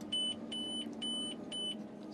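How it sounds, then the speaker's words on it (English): A Grimme Varitron 470 Platinum four-row self-propelled potato harvester sounds its full-hopper alarm: four evenly spaced electronic beeps over a steady low machinery hum. "It's beeping there that it's full."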